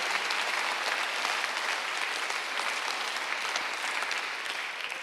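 A church congregation at a Sunday worship service claps hard and steadily, a dense, loud wash of applause that lasts the whole stretch, with no voices standing out above it.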